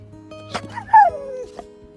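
A pit bull vocalizing on command gives a quick bark, then a rising-and-falling whine, close and clear with quiet moments around it.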